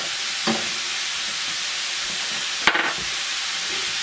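Chorizo frying in a covered pan gives a steady, loud sizzle and hiss throughout, with a couple of brief clatters as the lid or utensil moves.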